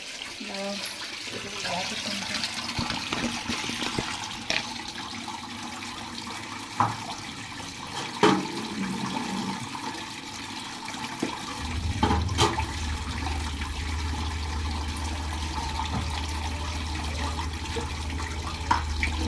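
Water splashes and runs while a kitchen stove is rinsed clean, a steady close wash with scattered knocks and clatter, and a deeper gushing flow taking over in the later part.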